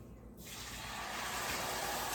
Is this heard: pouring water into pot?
yes